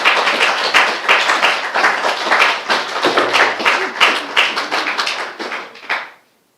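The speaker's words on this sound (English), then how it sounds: "If we give her a round of applause." An audience at a Padmasambhava Day festival breaks into a round of applause, dense, loud close clapping that keeps going for several seconds before cutting off abruptly.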